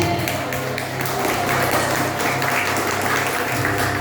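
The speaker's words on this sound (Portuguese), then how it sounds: "você pode aplaudir a Deus porque você está do lado mais forte" A church congregation applauds during a sermon, with continuous dense clapping and a steady low hum beneath it for the whole span, no break in the sound.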